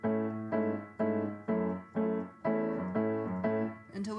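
A piano plays a repeating chord pattern from a verse, eight evenly spaced struck chords about half a second apart, each ringing and decaying, played alone and close.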